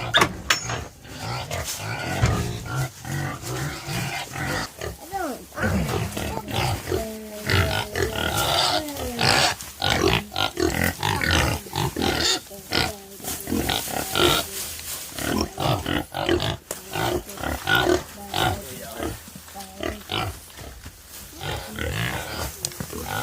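Pigs on a farm grunting and oinking steadily at feeding time, close and loud, with shuffling and clatter around them and some human talk mixed in.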